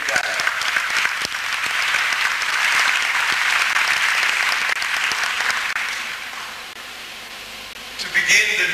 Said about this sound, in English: please give a big round of applause to Brother Nico Phooko over there.